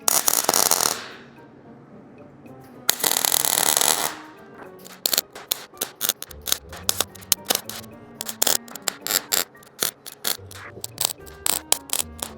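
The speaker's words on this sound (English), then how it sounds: "So we're gonna tack these and then we're gonna space that one." Tack welding steel plates onto the forks of a VW-powered UFO trike: two long bursts of broadband welding hiss, then a run of quick sharp crackles and ticks with low knocks, close and fairly loud.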